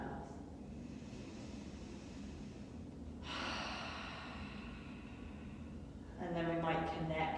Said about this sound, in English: a breath in through the nose and out through the mouth